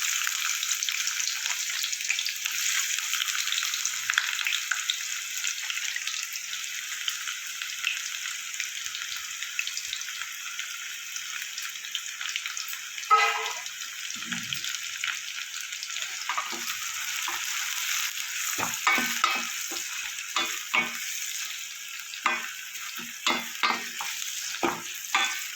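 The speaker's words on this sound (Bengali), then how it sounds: "কড়াইতে আমি তেল দিয়ে দিয়েছি, তেলটা গরম হয়ে এসছে। এবার এই পেঁয়াজগুলো, কুচনো পেঁয়াজগুলো দিয়ে দেবো।" Chopped onions fry in hot oil in a wok, a steady quiet sizzle with intermittent stirring clinks and scrapes growing more frequent toward the end, no talking.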